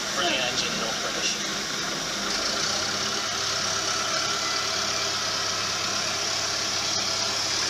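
A North British diesel locomotive idling at a heritage railway, a steady, continuous engine rumble with broadband mechanical noise that holds level throughout, heard fairly close with no clear speech.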